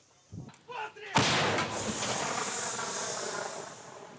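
A few short clanks and knocks, then one sudden, powerful blast from a self-propelled artillery gun that rolls into a long, hissing, rumbling echo.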